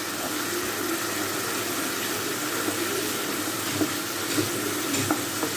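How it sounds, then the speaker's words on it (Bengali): Onion, ginger and garlic paste fries in oil in a pan, a steady hiss of sizzling with occasional faint stirring scrapes, close and continuous without talk. "এখন পেঁয়াজ আদা রসুন খুব ভালো করে একটু তেলের সাথে ভেজে নেব।"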